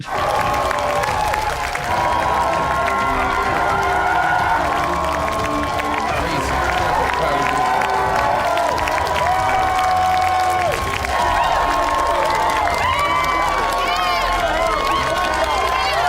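A film scene's crowd applauds and cheers in a long, steady, loud wash of clapping and shouting with music-like tones layered over it.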